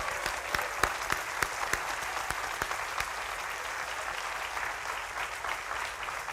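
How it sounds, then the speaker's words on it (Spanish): A church congregation claps in steady applause, a dense wash of hand claps with a few sharper individual claps standing out early on, moderately loud and sustained throughout. "Vamos a darle un aplauso al Rey de Gloria."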